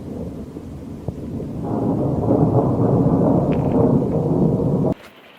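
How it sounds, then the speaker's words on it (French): Wind and a thunderstorm with rain outside a camper van in Alsace in summer: a low rolling rumble swells into a long, loud, roaring thunderclap that cuts off abruptly, leaving faint rain behind, with no voices. "il y a du vent, il y a de l'orage"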